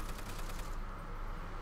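Gunfire in Call of Duty: World at War zombies mode, heard as a short rapid burst of shots that trails off, faint and distant in the mix.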